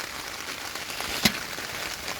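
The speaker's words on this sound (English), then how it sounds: "As you can see, it's still raining" Steady rain falls at a campsite in Sugar Hill State Forest, a continuous soft patter of drops with one slightly louder splash midway, no voices.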